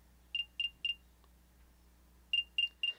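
Apple AirPods play their locate alert through the Find My app: a clear, close triple beep, a pause, then another set of three identical chirps in a quiet room.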